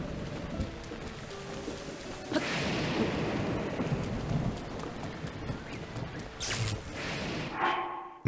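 Steady rain pours in a thunderstorm in Zelda Breath of the Wild, with rumbling thunder swelling partway through and sharp crackling strikes near the end.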